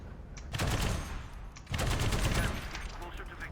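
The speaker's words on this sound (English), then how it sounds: "That was my artillery getting somebody" Artillery fire in a video game: two heavy, close blasts about a second apart, each followed by a long rumbling tail that fades slowly.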